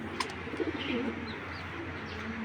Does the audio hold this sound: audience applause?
no